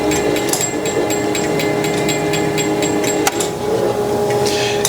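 A Mitsui 8 by 18 inch hydraulic surface grinder runs with a steady machine hum and faint repeated ticking as the head moves down on the Z-axis, with one sharp click partway through.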